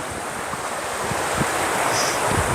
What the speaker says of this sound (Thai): น้ำไหล น้ำไหลออกจากสะพาน